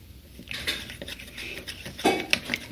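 A spoon scrapes and clinks against a container while powdered milk is scooped and stirred for a Baby Alive doll, with a few quiet, irregular taps and one brighter clink near the end.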